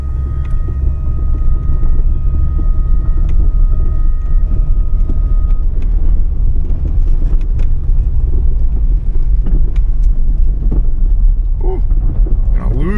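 A 2005 Chevrolet Corvette with the LS2 engine, pulled as a wrecking-yard part-out, drives slowly around a lot, its steady low engine rumble continuous throughout with some clunks and rattles, while people talk over it.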